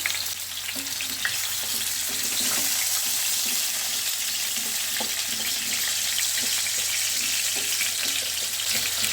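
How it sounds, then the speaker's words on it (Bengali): Potato pieces marinated with salt and turmeric fry in hot oil over a medium-high flame, giving a loud, steady sizzle that runs unbroken throughout with no voices. "তেলটা আমার গরম হয়ে গেল আলুটা ছেড়ে দিই"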